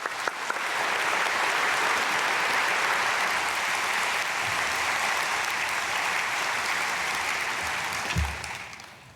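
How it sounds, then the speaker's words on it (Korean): A church congregation at an early-morning prayer service applauds to welcome a pastor to the pulpit, a loud, even wash of clapping that holds steady and then tapers off at the end. "나오실 때 우리 박수로 오시도록 하겠습니다"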